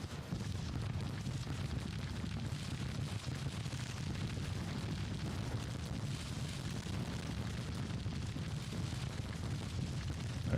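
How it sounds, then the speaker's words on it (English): A continuous, distant rumble of massed musket volleys and artillery fire rolls through a Civil War battle in the strategy game Grand Tactician, a dense, steady low roar with no single shot standing out. "So they are shooting now."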